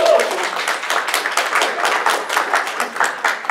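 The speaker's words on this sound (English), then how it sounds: "please give Alan a round of applause for the fantastic game" A live audience at a 2018 furry convention game show breaks into a sustained round of applause, dense overlapping clapping with scattered cheers filling the room for several seconds.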